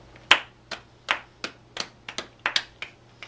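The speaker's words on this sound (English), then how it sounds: "You want to clap? Clap." Ten sharp, evenly spaced hand claps ring out close and loud in a quiet room with a faint steady hum underneath, no talking.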